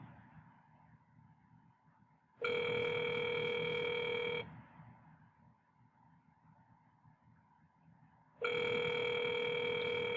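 Telephone ring-back tone on an outgoing cold call to a Baltimore wholesaling lead: two long, loud steady tone bursts separated by roughly four-second quiet gaps with faint background hiss, no talking.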